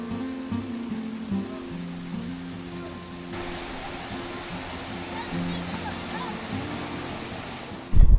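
Clear river water rushing steadily past the centre of Travnik, Bosnia, a continuous broad wash of flowing water heard close by, with a brief louder burst at the very end.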